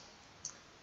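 A single sharp computer mouse click, short and crisp, standing alone over a faint steady background hiss.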